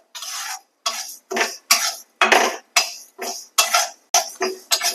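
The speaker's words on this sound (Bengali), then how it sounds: "ভালো করে ভেজে নেবো শুকনো খোলায়" Moong dal being stirred and dry-roasted in a dry pan: about ten rhythmic, scraping, rasping strokes, each a short burst with brief pauses between, close and clear with no speech.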